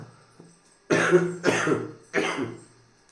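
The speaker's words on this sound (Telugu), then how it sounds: "కుత్క దగ్గర బాగా దగ్గు వస్తుంది" A person with a sore throat coughs three times in quick succession, each cough harsh and close, with a short quiet breath or throat sound just before.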